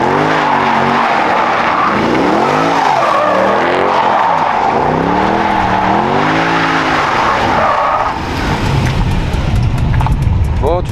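In a racing video game, a car engine roars and revs in rising, falling sweeps as tires squeal and skid loudly, then the revs drop near the end.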